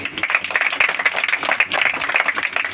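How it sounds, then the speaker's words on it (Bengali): A congregation claps together at a Christian rice-feeding ceremony gathering: dense, steady applause from many hands fills the room for several seconds without pause. "সবাইকে ধরে হাততালি দিয়ে দিন"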